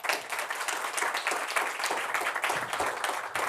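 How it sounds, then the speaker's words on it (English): An audience at a hometown reunion gathering applauds, producing steady, dense clapping at moderate loudness with no voices over it. "You guys should give yourself a round of applause for doing that."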